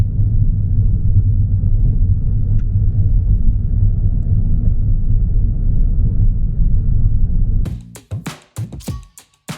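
Steady low engine rumble of a car driving a road through the Andes in Argentina, loud and continuous for most of the stretch, then breaking into choppy gusts and bumps near the end.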